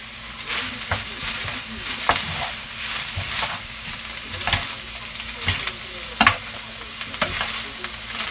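Seaweed stems (miyeok julgi) stir-fry in a frying pan, a continuous soft sizzle broken by repeated sharp scrapes and clacks of a utensil at an irregular rhythm.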